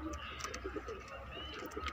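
Madrasi pigeons coo in low, repeated soft calls close by, with someone talking over them.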